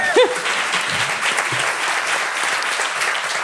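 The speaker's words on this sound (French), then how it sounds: "que vous pouvez applaudir aussi" A dense, steady wash of audience clapping fills a hall at close range, sustained throughout with a brief voice at the very start.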